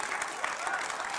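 Someone and others clapping in a television debate studio, a brisk patter of hands from a small group, fairly close and steady across the moment, with voices mixed in.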